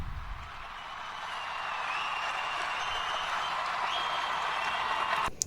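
A large crowd cheers and applauds steadily at a political victory night, the roar swelling after the first second and holding loud and dense, with no speech, before a sharp clap-like burst near the end.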